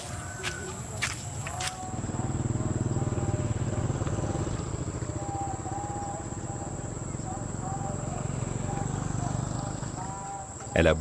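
A small scooter engine in a rural Cambodian village near the Banteay Chhmar temple runs steadily for several seconds at close range, its buzzing drone rising and then holding before cutting off near the end.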